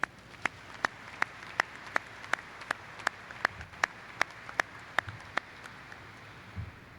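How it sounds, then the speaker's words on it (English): A ceremony audience claps in steady unison, with sharp, evenly spaced claps at roughly three per second and moderate loudness, continuing for several seconds before trailing off. "Round of applause, please."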